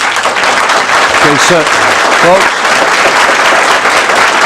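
Applause from an audience at a public meeting, loud and sustained throughout, with a voice briefly speaking over the clapping.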